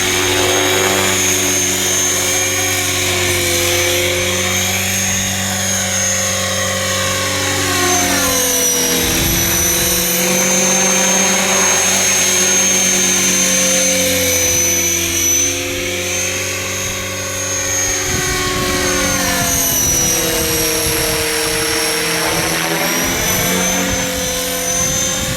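An Align T-Rex 500X RC helicopter on its maiden flight gives a loud, continuous rotor and motor whine that rises and falls in pitch as it hovers and manoeuvres nearby, with no talking.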